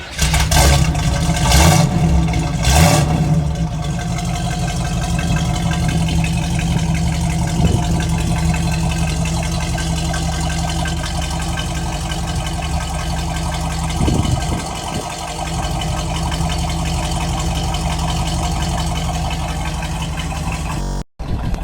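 A 1969 Chevrolet Camaro RS SS 396 V8 cranks and fires, revs briefly, then settles into a loud, steady, rumbling idle close by for about twenty seconds before cutting off abruptly, with no talking.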